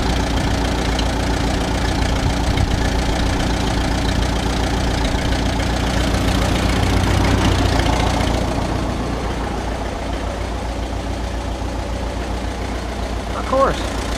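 An Oliver 66 tractor engine running with carburetor trouble, a loud close idle with a steady low throb that softens and settles partway through.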